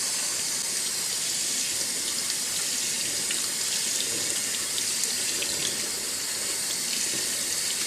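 Cold tap water gushing steadily over long grain white rice in a fine mesh strainer, a constant bright splashing rush throughout with no pauses or talk.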